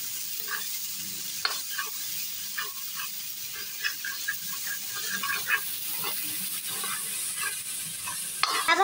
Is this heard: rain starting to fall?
no